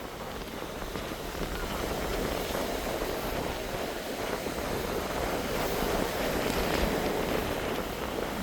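Steady surf and gusting wind at Praia da Cachoeira do Bom Jesus beach in Florianópolis, a continuous broadband wash that stays loud and even throughout, with wind buffeting the microphone and no voices.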